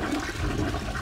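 A toilet flushes with a loud, steady rush of swirling water filling the whole moment, no voices over it.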